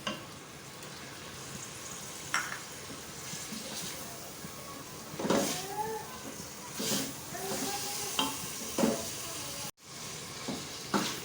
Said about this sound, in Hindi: गोश्त अच्छी तरह से हमारा भुन गया है।